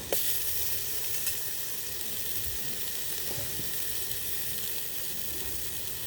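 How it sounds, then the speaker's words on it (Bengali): Onions with ginger-garlic paste frying in hot oil in a pan, a steady, close hiss of sizzling that holds evenly throughout, with a brief sharp clink at the start and no voices. "এখন আমি তেলের মধ্যে পেঁয়াজগুলো দিয়ে দিলাম, তারপর আদা রসুন বাটা দিয়ে দিলাম।"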